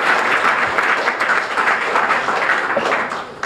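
An audience applauds at a Habitat for Humanity home dedication in Prince Edward Island, with dense, steady clapping from a sizeable crowd that fades slightly at the end.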